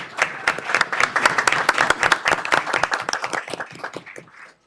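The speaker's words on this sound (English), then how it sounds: "with a round of applause." Audience applause at a school board meeting, a steady burst of many hands clapping that builds quickly and holds for several seconds before fading out.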